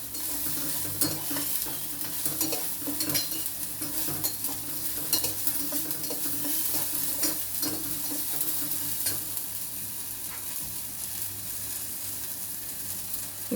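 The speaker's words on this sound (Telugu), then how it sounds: "ఆ పీసెస్ కూడా సరిగ్గా కుక్ అవ్వవు, అందుకని కొంచెం కలుపుతూనే ఉండాలి." Vegetables are stirred in a pan with little oil while cooking for a ragi soup, giving a continuous sizzle with repeated scraping and light clatter of the spatula against the pan.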